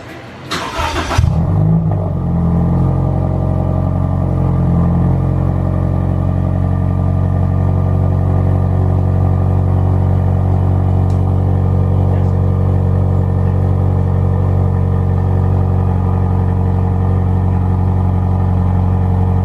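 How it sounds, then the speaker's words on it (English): A 2019 Toyota 86 with an aftermarket SPEC D exhaust cold-starts: the engine cranks and fires with a sharp roar, then settles into a loud, deep, throaty idle that rumbles steadily up close. "Let's hear that cold start, Clark."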